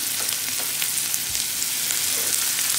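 Chopped onion with a spoonful of salt fries in a pan over the lowest heat, a steady close sizzle with fine crackles and no voices.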